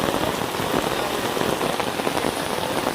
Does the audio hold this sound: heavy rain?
yes